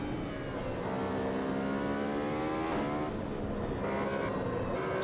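Formula Ultimate 2019 race car lapping Interlagos in Automobilista 2, its engine a steady high-pitched drone with rising and falling revs through gear changes, loud and continuous throughout.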